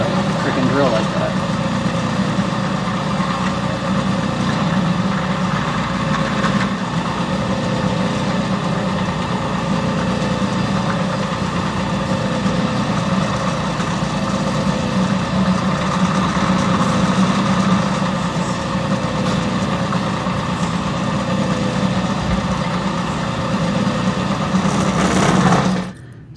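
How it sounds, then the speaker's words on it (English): A drill running during foil impressioning of a lock, a steady mechanical whir that holds at a constant level for the full stretch and stops abruptly at the end. "don't put your fingers under the freaking drill like that"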